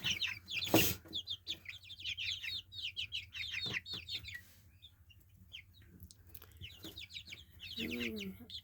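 A pen of young chickens raised from 24 chicks, including two roosters, clucks and chirps in busy bursts of short calls, with a sharp louder squawk early on and a deeper rooster-like croak near the end, fairly close.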